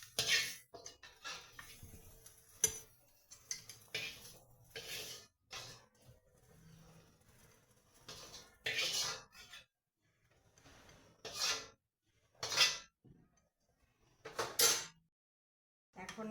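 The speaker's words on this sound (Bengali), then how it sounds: "তুলে বেটে নেব শিলনোড়া দিয়ে।" Fried prawns being ground on a shil-nora grinding stone: repeated rough rubbing and scraping strokes of stone on stone, close and fairly quiet, coming in irregular bursts separated by brief pauses, with no talking.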